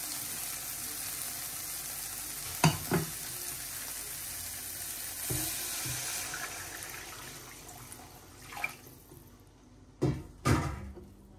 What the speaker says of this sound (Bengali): এই যে এখন ঝোলটা দিয়ে দিলাম।